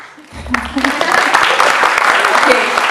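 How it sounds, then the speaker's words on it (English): An audience at a comic con panel in Belgrade bursts into a steady patter of clapping after a quiet start, with some voices mixed in. "people are clapping to themselves, but it's fine"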